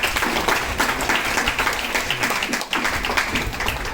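Audience at an official gathering applauding in welcome of an honoured guest, a continuous, fairly loud wash of many hands clapping with a slight dip midway, no voices over it.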